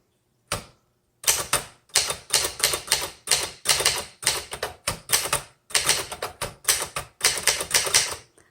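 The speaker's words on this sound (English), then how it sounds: "this is a 1971, and I love the feel of this typewriter" Crisp, loud key strikes on a 1971 Remington Ten Forty manual typewriter, rapid bursts of clacking typebars with brief pauses between words, heard up close with no voices.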